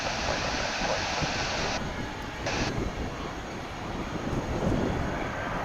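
A plane takes off from a runway at DFW Airport. Its jet engines make a loud, continuous broadband roar that swells and shifts steadily throughout.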